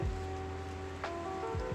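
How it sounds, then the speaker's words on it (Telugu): Heavy rain falls steadily in the forest around Maredumilli, a soft, even hiss heard at low level against a faint constant hum. "అరే గట్టి పడుతుందిరా వర్షం."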